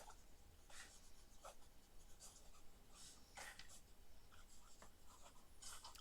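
A stub nib fountain pen scratches across cheap notebook paper in quiet, close strokes, with short bursts of scraping separated by pauses and no voices.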